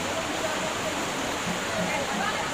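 Fast-flowing floodwater current in Pengaron, a steady broad rushing wash of water that sounds fairly close and continuous, with a voice talking over it.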